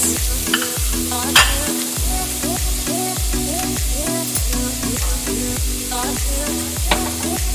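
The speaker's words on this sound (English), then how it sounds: "I've just got some oil in the pan and we are going to start with the onions" Onions frying in oil in a pan for a vegan burger, giving a loud, close, continuous sizzle broken by regular rhythmic scrapes and knocks of stirring, with no talking.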